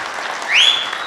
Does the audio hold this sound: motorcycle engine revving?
no